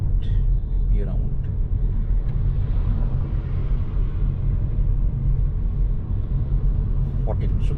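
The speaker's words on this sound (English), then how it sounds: "this Hyundai Kona Electric which I'm driving is 39 kilowatt hour battery pack" A Hyundai Kona Electric with a 39 kWh battery cruising on a highway gives a steady, loud rumble of road and wind noise throughout, with little variation.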